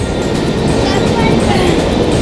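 A moving passenger train rumbles steadily from inside the carriage, a dense, continuous roar with faint rattling and murmured voices mixed underneath.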